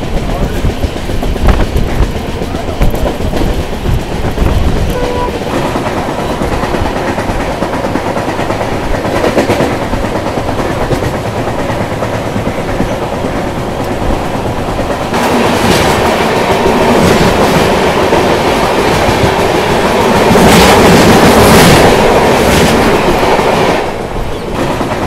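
Visakha Express passenger train (17015, Bhubaneswar–Secunderabad) running on rails near Simhachalam and Visakhapatnam: a continuous, loud rolling rumble with rattling wheel clatter that grows fuller and brighter in the final stretch.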